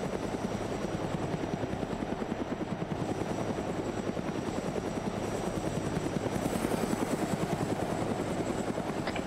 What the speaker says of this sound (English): we're in a helicopter